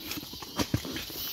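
A horse loaded with a hundredweight sack on a rural track, its hooves giving a few soft irregular clops at moderate distance amid faint outdoor ambience.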